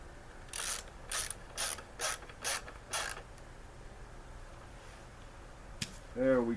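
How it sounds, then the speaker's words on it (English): Ratchet wrench tightening a bolt on an MTD lawnmower, heard as six short, evenly spaced clicking bursts close by, then a pause and a brief voice near the end. "Tighten up this last bolt."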